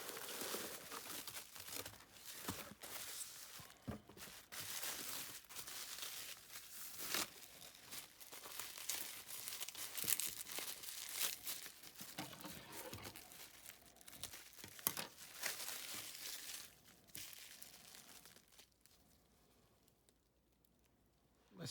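Crinkling packaging from an opened shipping box holding a refurbished 1920s Hamilton cushion-case watch, quiet close rustles and crackles in uneven bursts, fading to near silence at the end.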